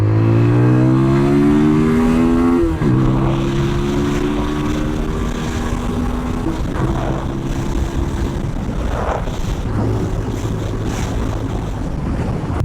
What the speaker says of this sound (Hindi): Drop a gear and just here the exhaust note.